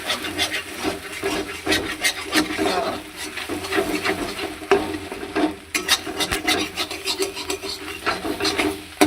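Food frying in a pan with a little salt added, dense continuous scraping and rubbing of a spatula across the pan over a faint sizzle, close and fairly loud, busy irregular strokes with no talking.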